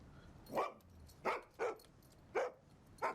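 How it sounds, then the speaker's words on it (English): A dog barks in a TV drama scene, five sharp, moderately distant woofs spaced unevenly about half a second to a second apart over quiet background. "It's the dog."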